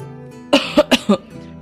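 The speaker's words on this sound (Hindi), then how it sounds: "वो बूढ़ा खांसते हुए कहता है।" An old man coughs four times in a quick, rhythmic series, close and loud, with quiet background hum around it.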